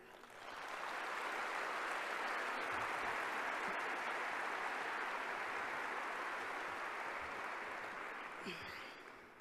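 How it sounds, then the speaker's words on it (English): Steady, dense audience applause at a corporate annual meeting rises within the first second and holds at an even level, fading slightly near the end. "Please join me in applause"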